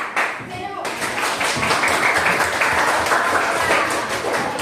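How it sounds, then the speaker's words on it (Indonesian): A classroom full of people claps steadily and loudly for a group presentation, sustained applause lasting several seconds. "Beri tepuk tangan untuk kelompok 3."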